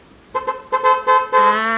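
A Yamaha XMAX scooter horn beeps in short bursts, twice quickly, then twice more, ending in a longer sustained honk, loud and close.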